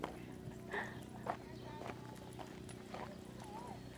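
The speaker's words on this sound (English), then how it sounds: "Rayna, Rayna, don't walk towards the horses." Horses walk nearby with soft, irregular hoof clops on the ground, faint and spread across the moment, while people talk quietly in the background.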